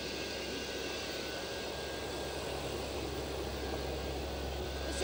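Steady, loud, unbroken drone of a USAF C-130 Hercules's engines heard from inside the freight-filled cabin in flight on a 1992 relief flight to Sarajevo, a continuous roar with no voices.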